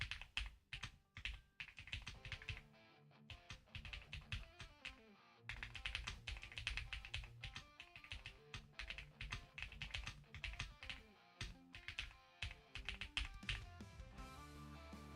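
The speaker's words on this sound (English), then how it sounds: "I'm not typing as fast as I was before" Fingers type on a thin computer keyboard close up, producing quick irregular bursts of light clicks with brief pauses between runs.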